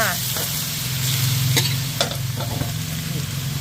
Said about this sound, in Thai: ใส่ปลาหมึกและกุ้งลงไปผัดกันเลยค่ะ